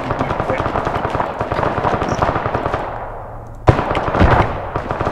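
Rapid bursts of automatic gunfire from an Arma 3 battle crack out in dense, overlapping volleys, with a sharp louder shot near the end and a voice talking underneath the shooting.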